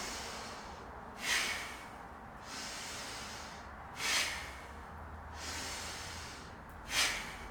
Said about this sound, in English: Fist of fury breath, core clearing breath.